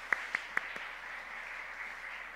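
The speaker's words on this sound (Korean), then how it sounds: "우리 축하의 박수 한번 부탁드리겠습니다." A few sharp, separate claps at the start, then soft, steady applause from a church congregation during a Sunday service continues in the background.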